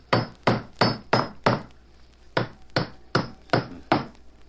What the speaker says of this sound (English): I'll hammer these nails in, and then it'll be sound again.